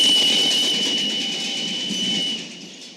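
Train arriving in Once Upon a Time in the West, amplified into a loud, steady rushing roar with a high piercing whine that fades slightly toward the end.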